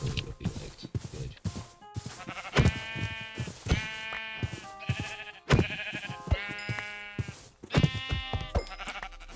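Sheep in the Minecraft video game bleat repeatedly, several loud, close, wavering baa calls spaced a second or two apart, with soft clicks and game noises between them and no talking.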